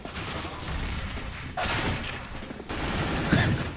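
Gunfire from a Counter-Strike match on the Inferno map at a professional esports final, rapid dense shots in continuous bursts with sharp onsets, loud and close, with no talk.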